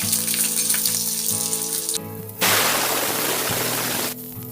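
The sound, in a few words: chopped onions frying in oil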